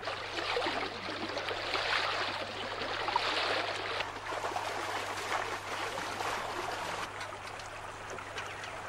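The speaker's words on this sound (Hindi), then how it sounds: "धार की आवाज, पानी पानी" A hill stream runs at a traditional gharat water mill, its steady rushing flow continuous and fairly loud with no voices over it.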